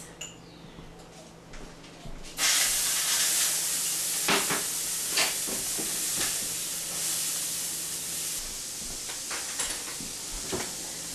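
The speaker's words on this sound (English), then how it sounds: "in the same pan that I fried the bacon in, I have red pepper, onion, and corn that I'm going to saute" Red pepper, onion and corn hit the hot bacon fat left in the pan and start a sudden hissing sizzle that stays steady, with spatula scrapes and light clatters close by.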